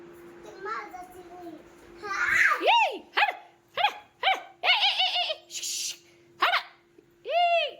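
A dog barks repeatedly in short, sharp bursts at irregular intervals, with a voice and a faint steady hum underneath.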